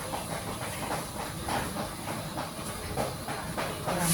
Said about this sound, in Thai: นี่เรามาดูในหม้ออยู่บนเตากำลังเดือดเลยค่ะ ต้มเครื่องใน